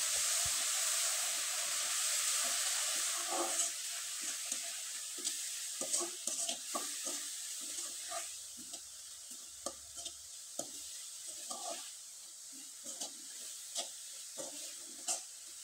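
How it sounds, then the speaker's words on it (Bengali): Grated coconut filling for rice pitha being stirred in a pan over low heat, a constant sizzle and hiss with repeated light scraping taps of the spoon. "এবার খুব ভালোভাবে নেড়ে চেড়ে পুরটা তৈরি করে নিতে হবে।"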